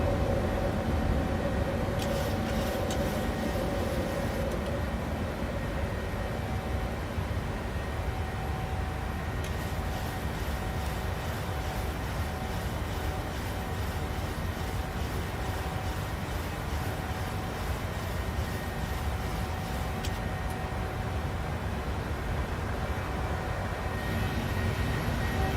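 A PMDG 737-800 taking off in Microsoft Flight Simulator: a steady, constant engine roar with a faint high whine above it, holding an even loudness from start to end without speech.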